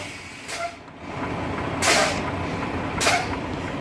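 A truck's air brake system releases three sharp hisses of air at about one-second intervals, close by over a steady background rumble.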